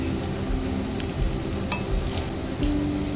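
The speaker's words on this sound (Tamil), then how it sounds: "முதல்ல காஞ்சி மிளகா போட்டு வறுத்துது" Dried red chillies with chana dal and black urad dal fry in hot oil in a pan, a steady close sizzle broken by occasional light stirring scrapes.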